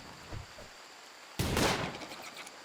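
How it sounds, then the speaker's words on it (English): Gunfire aimed at a creature in RimWorld: a faint early pop, then a sharp loud burst of shots that rattles briefly and fades, with no voices. "Shoot it!"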